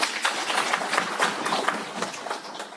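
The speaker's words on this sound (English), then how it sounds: "Can we please clap for the Minister?" An audience applauds the Minister at a high-level stakeholder engagement event, a dense, steady wash of many hands clapping that lasts the whole stretch.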